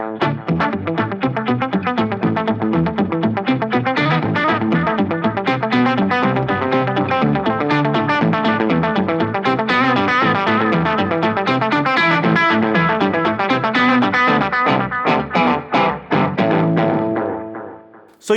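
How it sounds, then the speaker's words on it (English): Electric guitar played through a KMA Machines Tyler Deluxe rig with synth and delay pedals in parallel, a loud, busy stream of distorted, synthy notes layered with clean echoing repeats, steady for about eighteen seconds, then cutting off. "So one chain has synth, one doesn't, so you're gonna hear clean repeats, and the fundamental tone will have the synthesizer on it."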